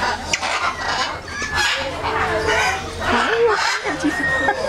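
A parrot at a bird sanctuary squawks and chatters with clucking, warbling calls, mixed in with nearby talk and other birds.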